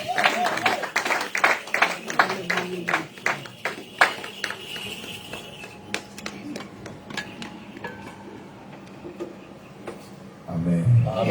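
A church congregation claps and cheers, with sharp, irregular hand claps that are loud at first and gradually thin out, then a burst of voices near the end.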